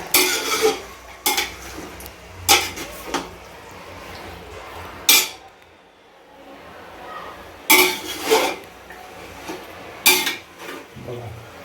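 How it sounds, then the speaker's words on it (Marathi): Goat mutton stirred in hot oil and rendered fat in a pan, with repeated loud metal spoon scrapes and clanks against the vessel over a low sizzle, in irregular bursts with pauses between. "आता हे आपण ऑइलमध्ये मिक्स करून घेऊया चांगल्या प्रकारे"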